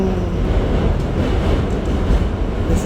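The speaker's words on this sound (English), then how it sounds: "That train is beating us across the bridge." A subway train rumbles across the Manhattan Bridge toward Brooklyn, a loud, steady, close roar of rolling wheels and rail noise that holds for the whole stretch, with no talking.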